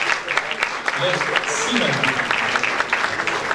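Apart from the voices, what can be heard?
audience applause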